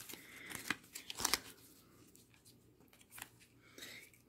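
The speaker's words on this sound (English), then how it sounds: "I'm just unwrapping" Plastic wrapping on a package of brown cord crinkles and tears in a few sharp bursts, then quieter rustling handling follows, close and without speech.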